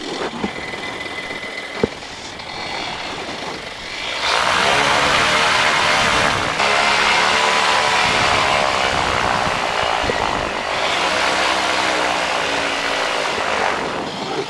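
PeaBee / Fox 13T flexwing microlight engine running before departure, a steady close propeller drone that swells louder after a few seconds and holds, with no talk over it.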